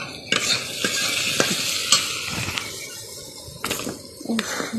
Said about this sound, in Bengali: এই তেলটা দিয়ে এই বেগুনটা ভাজবো